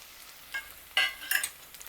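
Chopped capsicum and fine coriander fry in a pan for a Hyderabadi paneer curry, a soft sizzle broken by a few sharp stirring scrapes, close and fairly quiet with no voices.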